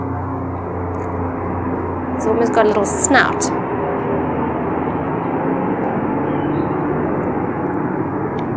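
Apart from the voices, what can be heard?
aeroplane flying overhead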